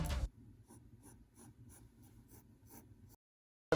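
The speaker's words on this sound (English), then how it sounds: "Start off with the left eye by drawing a really skinny egg shape." Pencil drawing a skinny egg shape for a cartoon eye on paper, a soft close scratching in rhythmic short strokes, quiet and alone, ending with a pause of silence.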